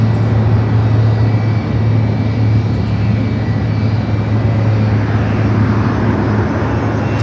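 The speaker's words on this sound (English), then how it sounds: "United at 757 300 heading up here for north side of takeoff" A United Boeing 757-300 airliner takes off at LAX, a loud steady jet roar with a deep low hum holding throughout, close and continuous with no voices.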